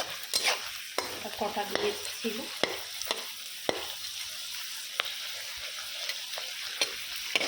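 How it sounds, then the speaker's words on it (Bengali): Potato peels fry crisp in a pan, making a close crackling sizzle broken by sharp scrapes and taps as they are stirred, with a brief voice heard at the start. "এই আলুর ছোকলাটা যে ভাজা করছি"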